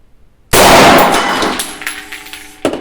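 Gunshot striking a 75 mm artillery shell, a single loud metallic clang that rings and decays for about two seconds, followed by a smaller knock.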